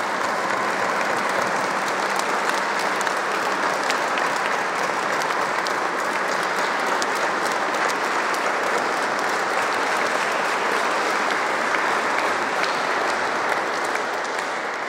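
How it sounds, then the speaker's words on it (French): A dense, steady wave of applause fills a funeral service as the audience stands, loud and sustained from start to finish, with faint crowd murmur beneath. "si on peut se mettre debout et acclamer pour soutenir ces grands services"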